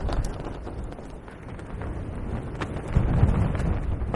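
Wind on a very windy day buffets the microphone with a steady, rough low rumble that swells louder toward the end.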